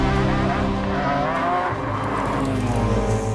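A McLaren F1 supercar driving, its engine a loud, sustained roar up close that holds steady for the whole stretch, with no talk over it.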